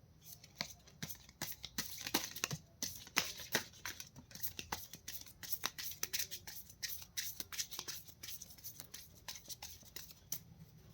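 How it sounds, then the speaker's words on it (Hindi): Tarot cards being shuffled by hand, a close, continuous run of papery riffles and soft slaps with quick irregular flicks, fairly quiet with no talking over it. "This is my last shuffle."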